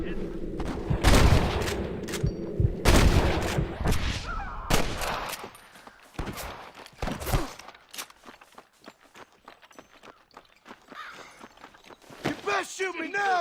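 Gunfire in Red Dead Redemption, with loud close shots from snipers in bursts early on, then sparser scattered shots and footsteps while someone shouts over the action.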